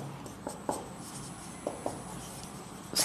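Pen or chalk writing out a geometry statement during a maths lesson, a few short scratchy strokes spread across a faint, steady background hiss.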